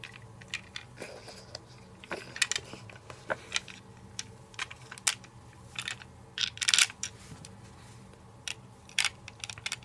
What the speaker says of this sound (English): these are really easy to screw in because it's custom made